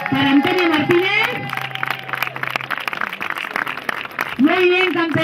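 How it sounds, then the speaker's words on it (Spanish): Applause from the crowd at a trail race award ceremony, a few seconds of scattered clapping between stretches of an announcer's voice over a loudspeaker. "Fuerte aplauso para ella."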